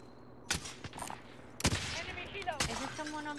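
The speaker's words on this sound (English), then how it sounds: "Where did that shot just come from? Shot just flew past me." Gunfire in a first-person shooter video game, a couple of sharp shots cracking out over an ongoing game background, one close and loud, with a few quieter impacts around them and no voices.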